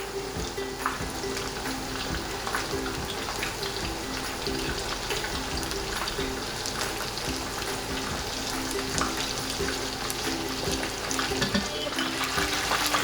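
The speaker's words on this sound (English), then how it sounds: "Fry them about 2 to 3 minutes on both sides." Steady crackling sizzle of chicken pieces for Japanese karaage frying in hot oil, continuous and close, with faint clinks and background hum throughout.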